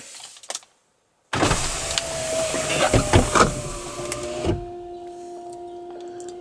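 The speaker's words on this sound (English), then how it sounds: "So as you can see, the top folds first. Then the tonneau cover opens. Then the entire roof retracts fully into the area." A 2013 BMW Z4 35is M Sport's retractable hardtop folds down under a steady electric motor whine lasting several seconds, with mechanical clicks and clunks from the tonneau cover and roof panels, then a quieter motor hum as it settles.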